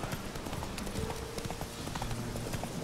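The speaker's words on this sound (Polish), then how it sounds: "to jest w ogóle zdrada dla płotki, że my jesteśmy na innym koniu" Horse hooves clip-clopping at a steady rhythmic pace while riding in The Witcher 3, continuous and moderately close over game ambience, with brief talk in the background.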